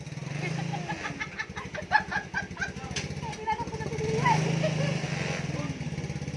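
Chicken clucking in a farmyard, mixed with a steady low engine-like hum and some background voices.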